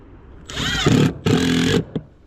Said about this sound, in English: she's drilling in pretty good